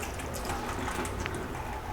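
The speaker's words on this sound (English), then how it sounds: "Drain off the water very carefully." Water is drained off carefully from hot saline water used to disinfect a washed face mask, giving a faint, continuous trickling and gurgling wash without distinct splashes.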